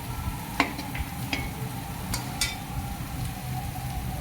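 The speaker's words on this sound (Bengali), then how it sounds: "এখন মশলাটাকে ভালোভাবে ভেজে নিতে হবে।" Spice masala frying in a pan for a meat dish makes a steady sizzle throughout, with a few sharp clinks and scrapes of a spoon stirring against the pan.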